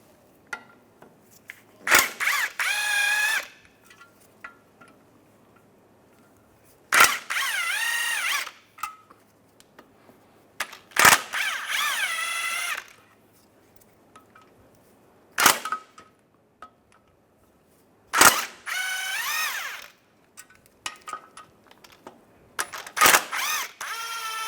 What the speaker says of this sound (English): Now we can take a 10mm socket, take these bolts out.